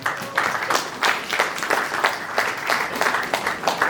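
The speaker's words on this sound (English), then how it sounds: "Please give him a huge round of applause" Steady applause from a sizable crowd, dense clapping filling the room continuously without letup.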